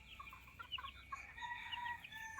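Gamefowl roosters on Olango Island cluck and crow faintly at a distance, a chorus of overlapping calls over a low outdoor background.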